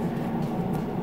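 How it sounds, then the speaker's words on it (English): A steady low rumble of a train passing just outside a window near a railway station, continuous and fairly loud, with no voices over it. "You can probably hear the train going just outside my window."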